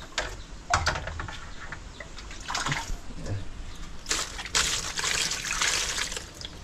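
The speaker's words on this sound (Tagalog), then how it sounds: "Hugas-hugas ng karne." Meat is rinsed under a running tap, water running and splashing steadily, with louder bursts of gushing and trickling.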